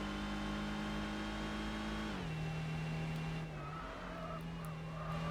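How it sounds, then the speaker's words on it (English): A supercharged Mercedes SLK engine in Gran Turismo 4 drones steadily at high revs, then drops pitch as it shifts and settles. A supercharger whine runs above the engine note, with a brief tyre squeal near the end. "looks like I can hear the supercharged whine from the engine there"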